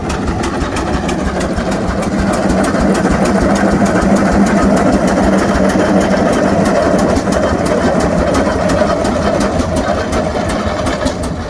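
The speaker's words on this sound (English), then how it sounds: "This is a single cylinder engine too." A single cylinder engine, a massive piece of equipment shown at an outdoor yard show, runs steadily with a loud, continuous chugging rumble and rapid regular firing pulses, close by and with no talk.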